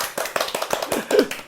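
A small group claps for a band at an interview gathering, with sharp uneven hand claps across a short burst, close and fairly loud, with no talking.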